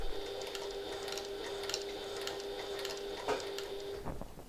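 A sewing machine stitches slowly into a corner of a reversible hobo bag with a shortened stitch length, giving a steady ticking whir of needle strokes with a faint high whine, fairly quiet and close, then stopping near the end.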